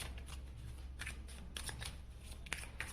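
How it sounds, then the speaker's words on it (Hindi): Tarot cards are shuffled by hand in a run of soft, papery riffling bursts, close and fairly quiet, with no voices. "तो मैं सबसे पहले कार्ड शफल करूंगी और कार्ड कलेक्ट करूंगी"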